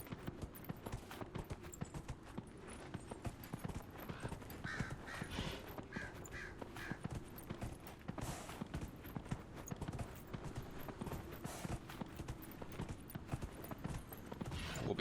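A large horse trots along in the video game Dragon Age: Inquisition, its hooves clip-clopping in a steady, even rhythm at a modest level throughout, with no one talking.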